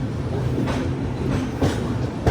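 A train pulls out of Itarsi railway station, a steady close rumble of wheels and carriages with faint rhythmic clatter, no voices.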